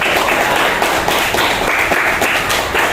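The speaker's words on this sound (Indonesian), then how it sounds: "Berikan dulu tepuk tangan buat teman kita tadi" Classroom applause for a student's question, a steady dense patter of many hands clapping throughout, fairly loud and close with no talk over it.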